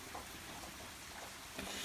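Steady rain falls outside, a soft, even hiss of drops with faint patters on surfaces, quiet and distant, with no voices.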